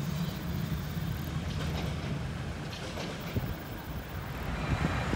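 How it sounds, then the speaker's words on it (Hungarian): A three-section articulated tram rolls past on a street in Arad, a continuous low rumble and rattle of wheels and cars with wind buffeting the microphone. "És akkor egy háromrészes csuklós gyuvakkocsi."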